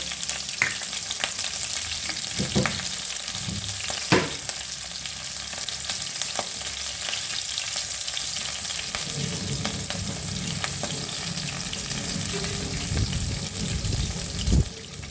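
Green chillies and nigella seeds sizzle in hot fish oil in a pan, a steady crackling fry with a few sharp spatula knocks and stirring scrapes, growing busier and louder toward the end.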